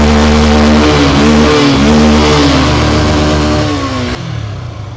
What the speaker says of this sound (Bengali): আমরা এখন বাইক আমরা স্টার্ট দিয়েছি।